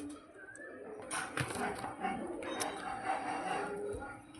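Pigeons of a Kala Chini fancy breed coo softly in a quiet space, low gurgling calls scattered over faint background noise, with a voice speaking intermittently nearby.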